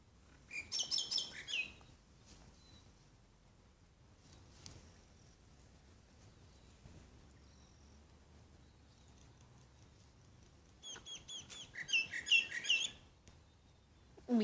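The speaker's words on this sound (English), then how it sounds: "We got birds in the tree, birds in these trees, birds in this tree, that tree." Birds chirping in trees beside a balcony, with bright bursts of tweeting near the start and again toward the end and quieter calls in between, fairly close and clear over a low outdoor hush.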